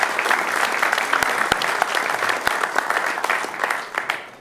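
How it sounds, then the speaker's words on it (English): Warm, continuous applause from a crowd honouring a coach, steady dense clapping with occasional sharp nearby claps, loud and without a break, a few voices faintly underneath. "So give him another round of applause."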